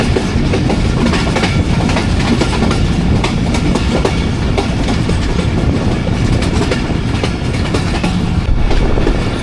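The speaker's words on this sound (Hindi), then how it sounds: "टेक्सला कैंट जंक्शन से पास हो रही है हमारी वन अप खैबर मेल" Khyber Mail 1UP passenger train passing Taxila Cantt junction, a loud, steady roar of rolling wagons with rhythmic clickety-clack from the wheels, sustained and close throughout.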